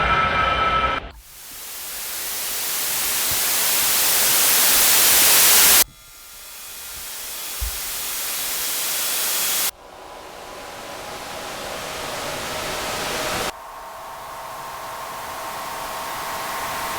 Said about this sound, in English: things like white noise